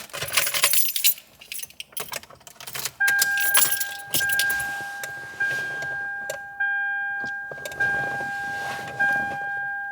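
An Apple CarPlay head unit starts up in a 2006-2011 Toyota Camry, giving sustained electronic tones that start, stop and resume, mixed with clicks and light rattling handling noises from inside the car, close and without talk.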